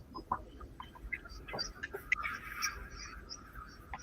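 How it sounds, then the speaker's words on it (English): A bird calls in the background in short chirps and clucking notes, scattered and faint over low room noise, with no speech. "So Floyd Hicks heard earlier the bird."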